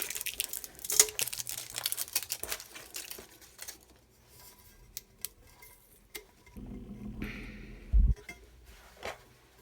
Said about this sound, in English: the tumbler that I had wrapped with the shrink wrap. So I'm going to unwrap that tumbler first.